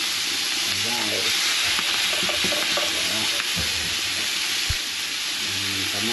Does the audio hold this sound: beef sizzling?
yes